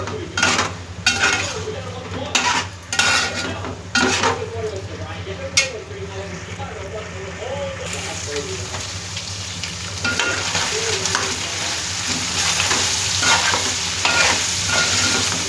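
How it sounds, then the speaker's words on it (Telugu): Mutton frying in oil with ginger garlic paste, a steady sizzle running throughout with spoon stirring and scraping against the pan, some clinks of utensils early on, and the frying growing fuller and louder in the second half. "నూనె తేలినప్పుడే అల్లం వెల్లిపాయ పేస్ట్ వేయాలి"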